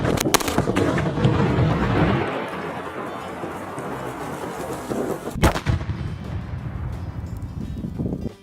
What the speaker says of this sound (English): Blow up the space heater again.